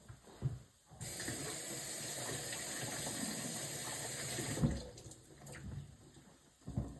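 Lettuce is washed under a running tap, a steady hissing gush of water that starts abruptly after a second, runs for several seconds, then breaks into splashes and light knocks, fairly quiet overall.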